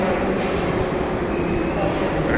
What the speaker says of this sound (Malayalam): ഒരു മെട്രോ ട്രെയിൻ അവിടെ നമ്മുടെ സ്റ്റേഷനിൽ വന്നിട്ടുണ്ട്